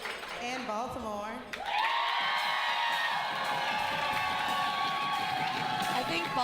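Spectators at a swing dance competition cheer, whoop and clap loudly, a crowded burst of shouts and applause rising after a moment of talk over music and holding steady.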